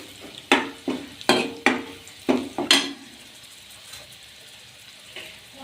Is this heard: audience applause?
no